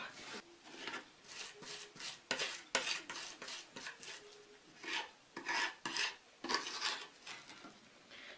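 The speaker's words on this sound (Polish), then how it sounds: "Teraz dodam do czosnku troszkę soli i z tą solą ten czosnek rozetrę." Garlic crushed and rubbed with salt against a board or bowl, a run of rough rasping scrapes in uneven bursts, close and clear with no talking.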